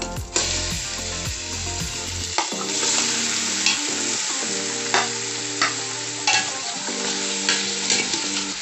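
Pork frying in a pan for a Filipino pochero, a steady sizzle with clatter and scraping as the meat is stirred, close and fairly loud, with no talk.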